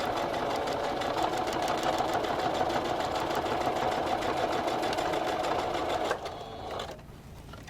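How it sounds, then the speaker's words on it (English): A sewing machine back-stitching a PPE mask runs in a steady rapid whirring patter close by, then slows and stops near the end. "Back stitch."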